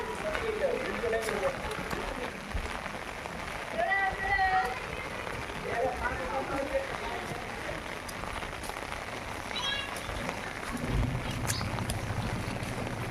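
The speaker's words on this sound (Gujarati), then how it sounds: "ચાલુ વરસાદમાં હું નીકળી ગયો બહાર" Steady rain patters on surfaces nearby in a flooded village beside the Banas river while people talk intermittently over it.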